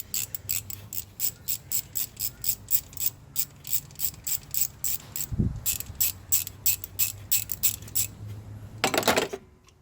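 Ratchet undoing a 10 mm bolt on a Ford Falcon BA/BF idler pulley: rapid, evenly spaced clicking strokes run steadily throughout, with a brief metallic clunk midway and a louder rattle near the end.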